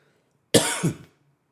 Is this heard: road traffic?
no